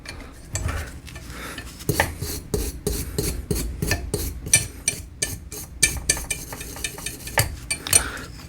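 Arisaka Type 99 rifle parts being scrubbed free of surface rust, a series of close, rhythmic rasping strokes with brief pauses between, gritty and scraping.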